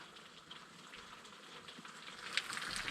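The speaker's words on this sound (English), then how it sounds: "So we're having a bit of a downpour." Steady rain pours down during an evening thunderstorm, a dense broadband hiss with scattered drop impacts that swells louder toward the end; no voices.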